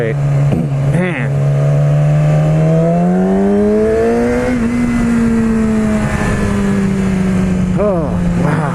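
A 2016 Yamaha R6 motorcycle with its stock exhaust pipe drones loudly and steadily, its pitch climbing as the engine pulls, then holding high and dipping slightly near the end, while a rider talks over it.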